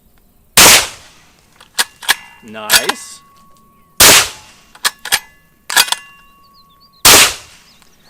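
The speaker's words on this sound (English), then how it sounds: "Supersonic ammo, full power 308 is what I have loaded up right now." Several full-power supersonic .308 rifle shots fired outdoors through a Radical Firearms Sinter 3D-printed suppressor, each a sharp loud crack with a short ringing tail, spaced a few seconds apart with smaller impacts between; a voice briefly comments.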